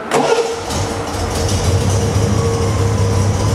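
A 1974 Triumph TR6 sports car engine cranks and catches, then settles into a loud, steady rumbling idle close by.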